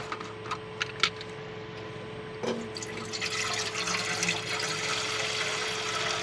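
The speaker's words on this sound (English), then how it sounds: "Get some water boiling" Tap water runs into a cooking pot inside a truck camper, filling it to boil udon noodles; a steady rushing pour starts after a few faint clicks and continues at moderate level to the end.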